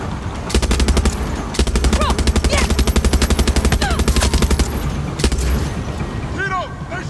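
Gunfire in the video game Far Cry 6: loud rapid machine-gun bursts in long runs, with short pauses and single shots between them.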